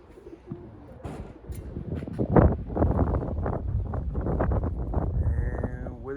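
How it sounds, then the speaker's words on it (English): Strong wind gusting outdoors by a bird coop, buffeting the microphone in loud, rising rumbles, with pigeons cooing nearby. "Look at this, guys. It's really windy."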